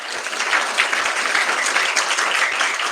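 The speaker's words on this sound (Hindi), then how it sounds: "एक बार मिशन की भी ताली होनी चाहिए" An audience at a large religious spiritual camp gathering in India gives a sustained round of clapping, dense and continuous from start to finish with no voices over it.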